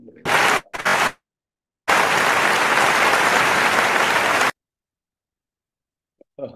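Applause welcoming Dr. Sagar Joshi at an income-plan presentation: a short burst of clapping, a brief pause, then a sustained loud round of audience applause lasting a few seconds before silence.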